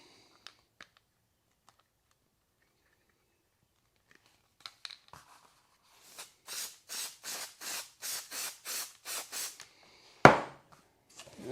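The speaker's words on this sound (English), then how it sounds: "I'm going to take some spray adhesive" A rapid series of short hissing bursts of spray adhesive onto foam, close by, after a few faint clicks, ending with a sharp knock.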